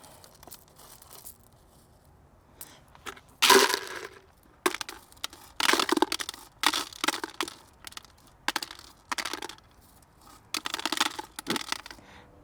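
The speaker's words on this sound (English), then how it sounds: "First step is removing as much glass as possible." Blue fire glass is scooped and scraped out of a garden fountain, giving a series of loud, gritty crunching and rattling bursts separated by short quiet gaps, with no talking.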